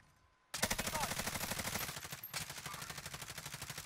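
Call of Duty Warzone gunfire starts abruptly after a brief quiet moment and becomes a loud, rapid automatic burst that rattles on steadily with one short break, close and sustained.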